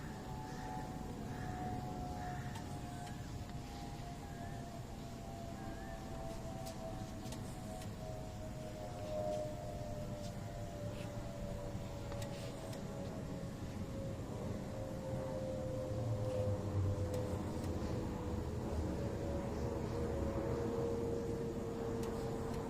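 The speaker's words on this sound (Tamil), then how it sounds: "சென்னை மீனம்பாக்கத்திற்காக இந்த விமானம் வருகிறது" A passenger airplane flies over Chennai at dawn on its approach to Meenambakkam airport, a steady distant engine drone with a slowly falling whine that stays continuous over a broad background rumble throughout.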